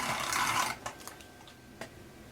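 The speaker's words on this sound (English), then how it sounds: "So I'll just run some adhesive." Double-sided adhesive tape runs out of a dispenser onto cardstock for handmade card making, giving a dry rubbing whir for under a second and then a few faint taps and clicks.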